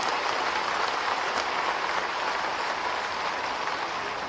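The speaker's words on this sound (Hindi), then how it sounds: "ताली बजाओ तो दिल से बजाओ" A large crowd at a political thanksgiving event in Bhopal attended by the Madhya Pradesh Chief Minister claps, a dense and sustained roar of applause that stays loud and even from start to finish, with no talking heard.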